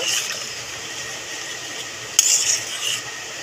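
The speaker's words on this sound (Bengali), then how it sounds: "একটু নাড়িয়ে নেব" A spoon scrapes and swirls through a pan of potol chingri curry (pointed gourd, prawns and potatoes with water and salt), making a steady close wet stirring sound with one sharp metallic clink partway through.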